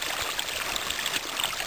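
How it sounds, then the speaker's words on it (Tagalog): Steady rush of a river running beside a mountain hiking trail on Mount Tapulao in the Philippines, a continuous broadband wash of flowing water that stays even and fairly close throughout, with no talking. "yung ilog po sa daan."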